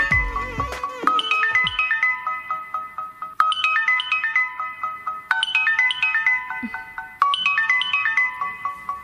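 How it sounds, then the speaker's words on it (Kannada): Electronic phone ringtone for an incoming call, a repeating melodic chime pattern playing four times loud and clear with no talk over it. "ಇವ್ರು ಯಾಕೆ ಇಷ್ಟೊತ್ತಿನಲ್ಲಿ ಫೋನ್ ಮಾಡ್ತಿದ್ದಾರೆ?"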